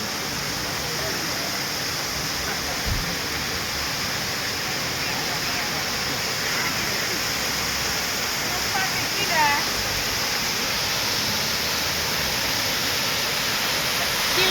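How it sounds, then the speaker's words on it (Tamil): A waterfall in Kerala pours with heavy flow, making a dense, continuous roar that holds steady throughout, with faint bursts of talk barely rising above the rushing water. "அன்றைக்கி ஃபால்ஸ் தண்ணி வரல, இன்னைக்கு அதிகமாகவே வருது"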